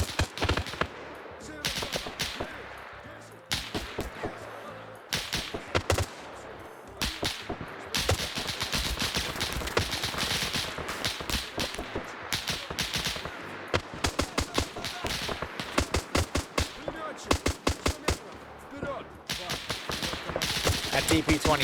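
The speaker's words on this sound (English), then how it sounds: "There's the auto rifleman going." Rapid bursts of DP-27 automatic rifle fire crackle through a WWII-style multiplayer shooter battle, sharp repeated volleys near and far layered over a constant din, with brief gaps between strings of shots.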